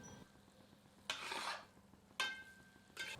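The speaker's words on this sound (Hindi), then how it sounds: "अब इसे 10 से 15 मिनट मध्यम आंच पर भूनते हैं और बीच बीच में करछी चलाते रहते हैं ताकि यह समान रूप से भुने।" A ladle stirs carrot halwa as it roasts over medium heat, giving three quick scraping, sizzling sweeps separated by short quiet gaps, close and fairly soft.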